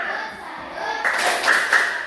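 An audience applauds at the end of a classroom presentation, a short burst of scattered clapping with voices cheering over it.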